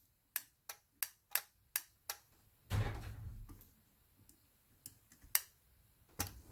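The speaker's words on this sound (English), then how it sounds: "can you hear the relay click?" Sharp, crisp glow plug relay clicks on a Land Rover Defender 300TDI in a quick regular series, then a brief rustling thump, followed by a few scattered clicks, close and fairly quiet.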